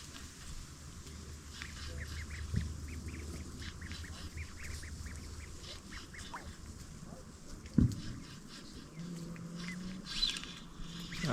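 Ducks quack in repeated rapid bursts at a moderate distance over a low outdoor rumble, with a sharp knock in the middle.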